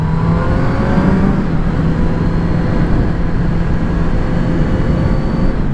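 A Kawasaki Z900 four-cylinder motorcycle engine held around 6000 rpm, a loud steady high-revving drone with a sustained tonal whine and road rumble, continuous and close.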